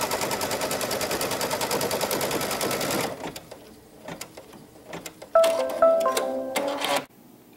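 A quilt table runner stitched on an embroidery machine, with dense rapid mechanical needle chatter for about three seconds, then quieter intermittent clicks and brief whirring bursts of machine movement.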